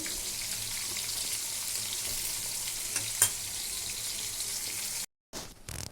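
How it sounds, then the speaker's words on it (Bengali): Fish fries in a pan with a steady, fairly quiet sizzle and crackle, broken by one brief clatter before a sudden cutoff near the end. "এই দেখো আমার মাছ ভাজা কমপ্লিট"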